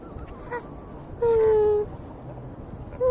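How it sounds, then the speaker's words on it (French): Waterfowl feeding on bread at a lake give two nasal honking calls, one drawn out and the second cut short, over a soft background hum. "je savais pas qu'il y avait beaucoup de canards aussi ici"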